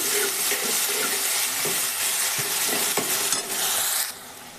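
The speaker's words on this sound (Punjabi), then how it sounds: "ਪਿਆਜ਼ ਵੀ ਆਪਾਂ ਚੰਗੀ ਤਰ੍ਹਾਂ ਦੇ ਨਾਲ ਭੁੰਨ ਲਵਾਂਗੇ" Onions frying in a pan for a dal, sizzling loudly and continuously while a spoon stirs and scrapes through them in several quick strokes, the sizzle easing slightly near the end.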